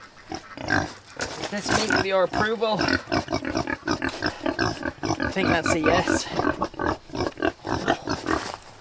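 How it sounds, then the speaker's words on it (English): Pigs on an off-grid homestead grunt in a rapid, close run of snorts and oinks, woven through a man's speech throughout. "Some very happy pigs."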